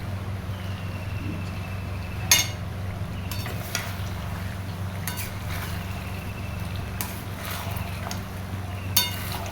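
Meat cooking in a pan in a home kitchen, a steady low frying hiss and hum running throughout, with a couple of sharp metallic clinks from stirring.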